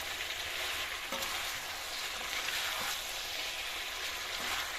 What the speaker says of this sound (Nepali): एकछिन मजाले भुट्ने अब